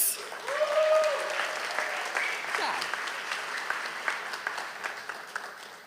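An audience applauds steadily at a high school graduation award ceremony, a full room of clapping that swells early and then holds at a dense, even patter, with a voice briefly heard over it.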